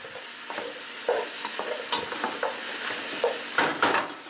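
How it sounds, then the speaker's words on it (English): Meat stirred into a hot pot of onions and garlic for Brazilian feijoada: soft sizzling beneath intermittent scraping and shuffling strokes of the spoon, close and moderate, with no talking. "So in goes the meat. And stir it around a bit"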